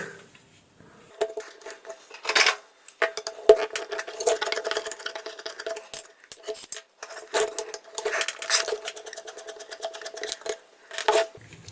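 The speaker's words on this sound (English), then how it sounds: "Now I will remove the heatsink screw here and this rectifier heatsink." A screw is being removed from the rectifier heatsink of a 12-volt switch-mode power supply that gives only 3 volts. Metallic clicks and scraping from the screwdriver and metal parts come in irregular bursts at close range.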